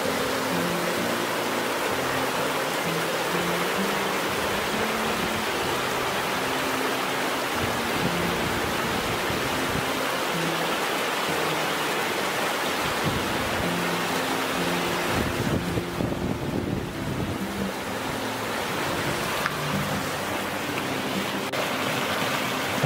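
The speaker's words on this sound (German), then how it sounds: "Hier legt sich Samson mit der Kraft von 2 Flüssen an." Powerful river water rushing past in the Bernese Oberland where two rivers meet, a loud unbroken roar of whitewater filling the whole stretch with steady broadband noise and no voices.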